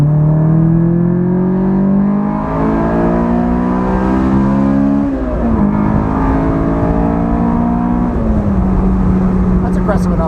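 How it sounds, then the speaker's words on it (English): A Honda S2000 is driven aggressively, its engine note rising loud and close through hard acceleration with a couple of shifts, the pitch falling and climbing again. "We need to drive aggressively now."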